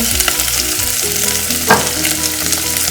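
Potatoes and capsicum frying with onion in a pan, a loud continuous sizzle broken by scraping stirring strokes, with one sharper clatter near the middle.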